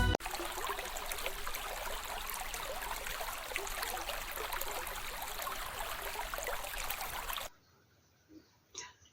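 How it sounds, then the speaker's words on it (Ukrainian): Water flows and splashes in a village well, a steady loud rushing trickle that cuts off abruptly near the end, leaving faint quiet sounds. "Давайте і ми з вами послухаємо як тече, хлюпоче і шумить вода."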